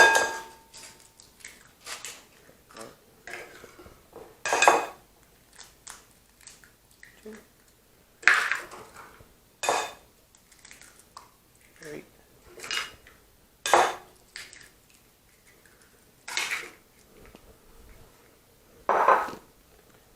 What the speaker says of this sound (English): we're going to crack 4 eggs into that